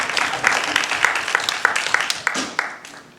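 Applause for the finalists of a secondary-school EFL debate final rises as a moderate round of clapping, with some sharper individual claps standing out over about three seconds.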